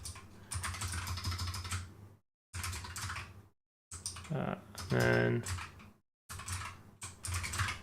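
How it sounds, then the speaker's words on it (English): Rapid clattering keystrokes on a computer keyboard in bursts separated by short silent gaps, close and fairly quiet, with a brief spoken word. "Oh, lots of typing today."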